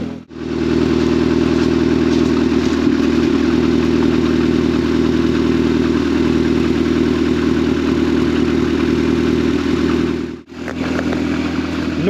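A Vauxhall Astra Mk3 Premier, parked since 2018 and running without alternator charge, idles loudly and close with a steady mechanical drone and light clatter, briefly dropping out near the end before picking up again.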